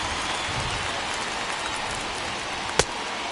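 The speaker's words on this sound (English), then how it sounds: "that rain is really coming down right now" Heavy rain pouring down at a Detroit Tigers at Cleveland Indians baseball game, a dense steady hiss of falling water filling the air with one brief sharp knock near the end.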